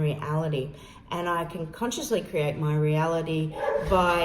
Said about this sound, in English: excuse my dog's barking please